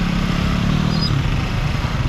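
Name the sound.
motorcycle engines revving in a Macau street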